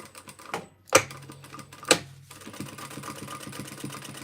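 A sewing machine runs steady, rapid stitching through a T-shirt quilt, preceded by two sharp clicks, close and moderately loud.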